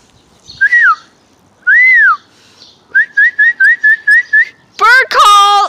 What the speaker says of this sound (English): Bird call!